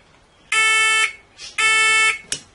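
A loud, piercing electronic vehicle rollover warning alarm beeps in two long pulses, followed by a brief third chirp, with nothing else audible.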